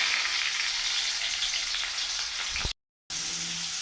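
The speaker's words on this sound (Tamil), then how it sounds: "வெங்காயம் கொஞ்சம் போட்டுக்கலாம். வெங்காயம் நல்லா வதங்கட்டும்." Onion sizzles steadily in hot oil in a pan as it softens for a bitter gourd thokku, a continuous loud frying hiss that cuts out briefly, then resumes.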